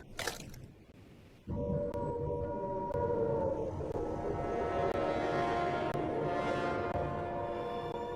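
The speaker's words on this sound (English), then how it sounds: "In Britain, the air raid sirens had sounded within minutes of Prime Minister Neville Chamberlain's" A wailing air raid siren starts abruptly after a brief burst of noise, holding a loud, steady, slightly rising tone with harmonics for several seconds.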